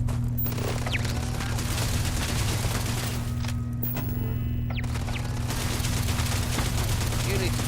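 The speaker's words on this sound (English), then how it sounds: "is that turret shooting at a member of our own crew?" A sci-fi starship turret firing at a crew member, sharp intermittent shots over a constant low mechanical hum and ambient drone, sounding moderately close with no clear talk.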